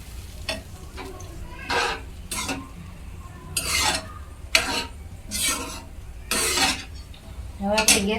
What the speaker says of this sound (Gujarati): હવે એકવાર મસ્ત હલાવી નાખશું બધું